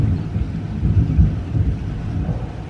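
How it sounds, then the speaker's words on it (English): Outdoor thunder ahead of rain, a deep continuous rumble rolling in low and steady with wind buffeting the microphone, no voices. "You can hear the thunder."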